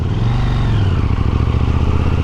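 A 2021 KTM 890 Duke R runs on its stock exhaust, a loud, close, throbbing engine note with a steady rhythmic pulse and a slight rise in pitch early on, heard alone without talk.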